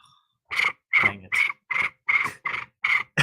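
A person imitates crickets chirping with a voice: eight short, evenly spaced chirps, close and clear against silence.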